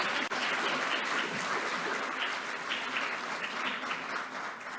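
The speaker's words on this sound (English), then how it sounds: "That's the first time I've got a round of applause" Audience applause welcoming a co-host at an annual charity conference in Scotland, a continuous patter of many hands in a hall, fairly soft and somewhat distant, holding steady before easing slightly toward the end.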